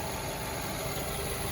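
A 2017 Nissan Rogue SV's 2.5-liter four-cylinder engine idles steadily with a low, even hum and no voices over it.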